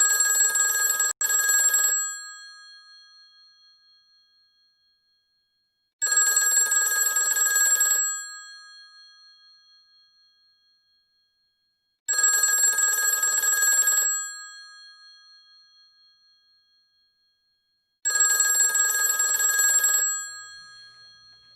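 An old-style telephone bell rings four times, each ring a two-second metallic trill followed by a fading tail and silence, loud and close.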